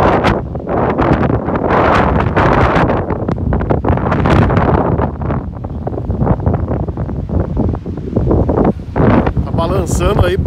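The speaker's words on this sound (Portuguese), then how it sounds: "Balançando aí porque o vento tá forte, viu?" Strong wind buffets the microphone outdoors in Tadoussac, a loud continuous rumbling roar with gusty surges, heard under someone talking throughout.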